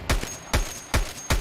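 Explosions in the game Escape From Tarkov, four sharp booming blasts spaced evenly about every half second, each with a short thudding decay.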